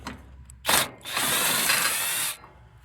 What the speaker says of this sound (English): Just take the screw out on each side.